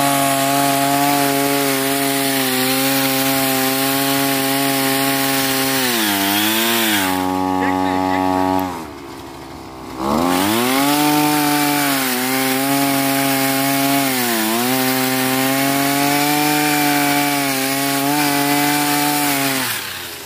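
A chainsaw cuts firewood in a garden, its engine droning loud and close for about twenty seconds with pitch dips as the chain bites, a brief pause in the middle, and a voice occasionally calling out over the noise.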